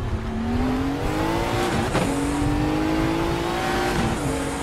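A Fabcar 935 race car accelerates on the Nordschleife in the RaceRoom sim racing game, its engine tone climbing steadily through two gear changes with a brief gap between them, loud and close.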